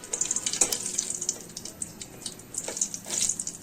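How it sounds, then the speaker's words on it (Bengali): Dried red chillies fry lightly in a pan, giving a soft, steady sizzle with small crackling pops. Brief stirring or scraping touches sit in the mix, and no one speaks. "আমি কয়েকটা শুকনো মরিচ ভেজে নিচ্ছি"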